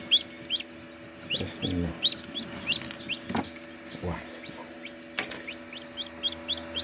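Newly hatched Tetra H or Leghorn chicks peep in a series of high, rapid chirps indoors, some close and loud, with a brief low voice and a few knocks under them.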